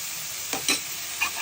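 Carrots frying in ghee in a pan give a steady close sizzle, with a few brief stirring scrapes over the hiss.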